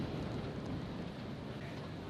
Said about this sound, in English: today the trade winds are blowing really strongly and they're gusting over the top of the hills